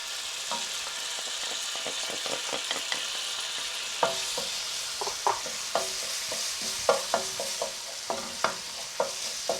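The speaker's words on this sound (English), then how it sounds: "stir that around, and I have a tablespoon of grated ginger" Grated ginger is stirred around a frying pan for Thai red curry, with a steady sizzle and irregular scrapes and knocks of the utensil against the pan. It is close, with no talking.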